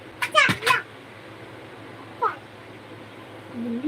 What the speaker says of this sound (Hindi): बिल्ली जैसे तो लग रही है